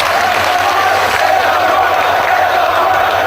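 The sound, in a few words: wrestling fans applauding and cheering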